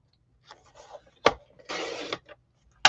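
Paper trimmer slicing a sheet of cardstock down by half an inch, with a short scraping glide, a sharp click of the blade and a brief rasping cut, close and fairly quiet.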